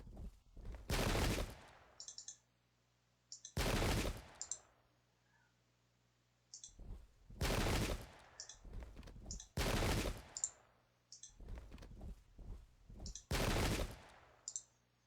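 Musket volleys in a Pike and Shot battle at Prestonpans 1745 crack out as sharp, loud bursts roughly every two to three seconds, each followed by brief rattling clicks and short quiet gaps.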